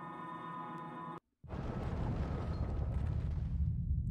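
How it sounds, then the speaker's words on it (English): A dungeon collapses in the Grandia video game with a deep, sustained rumbling roar that starts abruptly after a sudden cut of a droning tone and stays loud and dense to the end. "Is this like the third dungeon we've been in now that's collapsed after getting to the end?"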